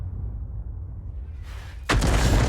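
An M44 artillery gun in a video game fires a single round: a low rumbling hum, then one sudden loud, sustained blast close by near the end.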